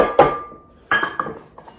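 A spoon stirs flour into roll dough in a bowl, giving four sharp clinks and knocks against the bowl, spaced unevenly, close and clear with short pauses between.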